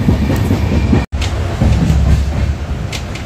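A train runs steadily near Vaibhavwadi station, heard from inside a carriage: loud, continuous rumble with faint wheel clatter, briefly cut by a momentary dropout near the start.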